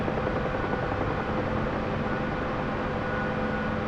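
A helicopter in the DCS flight simulator game rattles with a dense, steady rotor and engine drone that holds at an even level throughout, with no voices.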